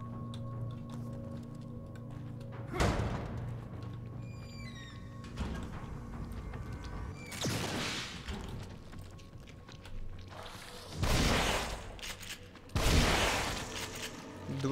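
Shotgun blasts in the horror video game The Evil Within, several sharp loud bursts spaced a few seconds apart over a quiet ambient background with faint chirps.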